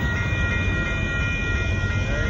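Northbound Union Pacific mixed freight train rolling past at a road crossing in Austin, Texas: a loud, close, continuous rumble and clatter of wagons with a faint high wheel squeal throughout.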